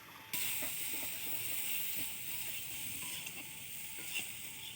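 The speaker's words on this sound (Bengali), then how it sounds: "দেখো বেগুনটাও প্রায় ভাজা হয়ে এসেছে।" Eggplant pieces fry in oil in a pan with a soft, even hiss and light scraping ticks from a spatula, fairly quiet and steady, no voices.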